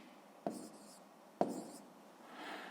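Pen or pencil scratching numbers onto paper by hand during a math exercise, two sharp taps with short scribbling strokes after each, soft and close, with a faint quiet voice.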